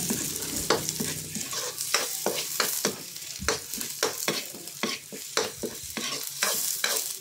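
Onions sizzle in a hot pan while a utensil stirs them in repeated scraping strokes, a steady frying hiss under the rhythmic stirring, cooked as the start of squid adobo.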